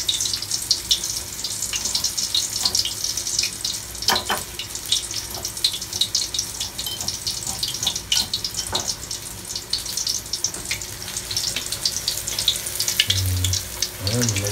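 Breaded chicken pieces for Japanese chicken katsu frying in oil, a continuous bright sizzle and crackle with occasional pops and clinks, steady and close.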